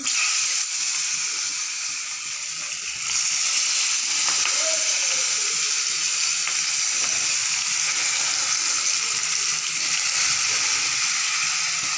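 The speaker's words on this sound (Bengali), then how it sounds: "তেলটা বেশ গরম হয়ে আসছে এবারে মাছটা ছেড়ে দিয়ে দিচ্ছি" Steady bright sizzling of fish frying in hot oil fills the whole stretch, a constant crackling hiss with no talking.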